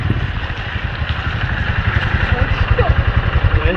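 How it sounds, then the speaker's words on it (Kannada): A motorcycle engine chugs nearby with a steady, pulsing rhythm that grows a little stronger as it arrives, with people talking over it. "ಒಂದು ಬೈಕ್ ಬಂತು."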